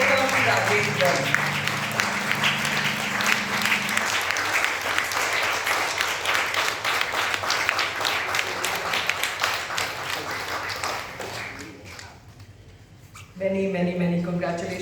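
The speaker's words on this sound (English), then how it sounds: "We can have a louder applause." Sustained applause and clapping from an audience at an award ceremony presenting a lifetime achievement award, steady and loud for most of the stretch, then fading briefly before picking up again, with voices mixed in.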